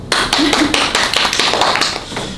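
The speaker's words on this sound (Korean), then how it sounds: "박수." A studio audience at a televised discussion show gives brief applause. The dense, close clapping lasts a couple of seconds, with no talking over it.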